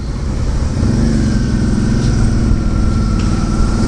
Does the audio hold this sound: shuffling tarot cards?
no